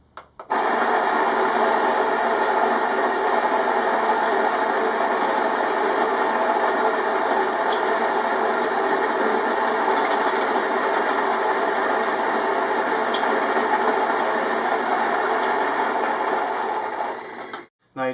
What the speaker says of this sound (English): put it in the grinder